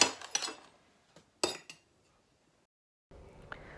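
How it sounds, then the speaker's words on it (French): Dishes, pots and cutlery clink and clatter in a kitchen sink during washing up, a few sharp bursts of knocking metal and crockery close by, then a pause and quieter rattling. "On appelle ça comme ça chez nous, faire la vaisselle"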